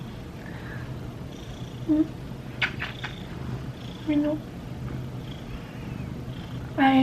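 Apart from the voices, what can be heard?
pet cat Mino purring and meowing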